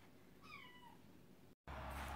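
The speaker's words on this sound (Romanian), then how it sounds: "miau, miau, miau" Rescued stray kittens give a faint meow of falling pitch, a single thin cry over quiet background, followed after a brief cut by a louder stretch of noise.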